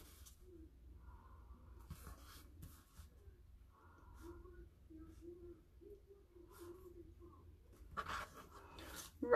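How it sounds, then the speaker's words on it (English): A journaling pen doodles on a paper card, a faint, soft scratching that comes in short strokes and pauses, with brief quiet vocal sounds in between. "I'm going to doodle."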